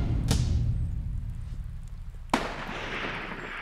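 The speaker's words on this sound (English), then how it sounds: "he pulls the trigger." A rifle is fired at a mule deer in open Wyoming country, with two sharp, loud reports: one near the start and another a couple of seconds later, each followed by a broad rumbling echo that fades across the terrain.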